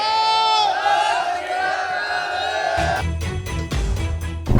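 Crowd of farmers shouting Sikh 'Bole So Nihal' jaikara slogans at a protest under police tear gas shelling: a long drawn-out chorus of voices, then rough bursts of noise and thuds.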